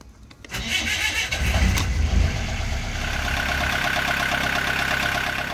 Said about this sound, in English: We now had the engine running.